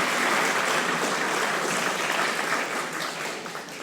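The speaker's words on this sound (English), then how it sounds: "Another round of applause for the Shotwell family." An audience at the city's 29th annual awards ceremony applauds the Shotwell family after their performance, dense, sustained clapping that fills the hall and tapers slightly at the end.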